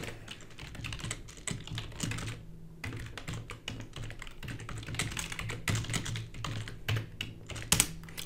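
Computer keyboard typing code, rapid irregular key clicks and taps in quick bursts with short pauses, close and fairly quiet, with no speech.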